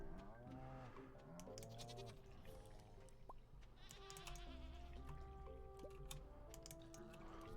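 Goats bleat in a Stardew Valley farm scene, several repeated calls overlapping with light game sound effects and soft drips, continuous and fairly quiet throughout.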